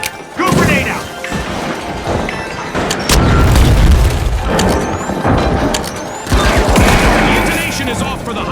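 Grenade blast in the video game The Finals; loud booms and crashing impacts with gunfire bursts, under excited commentary.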